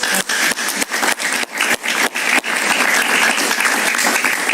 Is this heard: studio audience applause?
yes